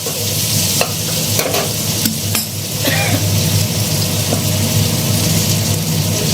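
Potatoes and cauliflower fry in a pan with garlic and dried chilli, giving a steady close sizzle with spatula scrapes and a few sharp metallic knocks against the pan.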